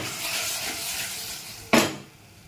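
Mango and tomato pieces dropped into hot oil in a pressure cooker, giving a sudden loud sizzling burst that fades back into a steady low hiss of frying.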